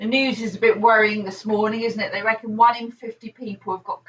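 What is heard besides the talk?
No distinct noise like a dog, phone or traffic.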